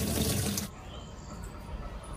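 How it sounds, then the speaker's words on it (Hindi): Water pours hard from a tap into a container for about two-thirds of a second, then cuts off, leaving faint dripping and a quieter trickle. "पानी भर रहे हैं"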